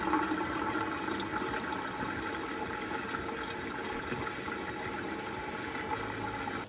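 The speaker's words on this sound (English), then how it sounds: "I'm going to be adding some water to my pot and go ahead and boil my noodles" Water runs steadily into a cooking pot for noodles, a continuous gushing splash with no breaks.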